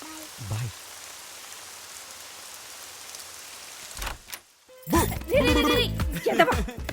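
Steady rain pours down in a Telugu film scene, a dense even hiss for several seconds before a thud and raised voices speaking over it.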